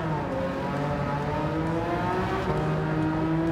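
A weak, heavily upgraded car in Gran Turismo 7, wheels spinning on a straight in fourth gear, its engine droning and revving steadily higher, a continuous strained whine with rising tones throughout.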